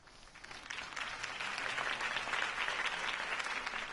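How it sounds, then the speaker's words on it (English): Crowd applause in the Batman Telltale video game after a campaign speech, a broad steady wash of clapping that swells in and holds loud throughout. "If only Mr. Wayne, my campaign's largest backer, could have heard that applause"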